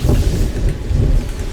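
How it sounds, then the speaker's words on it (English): Thunder during a City of Heroes game session, a continuous low heavy rumble with a rain-like wash across the whole moment, fairly loud and steady with no voices over it. "that thunder pick up on the mic?"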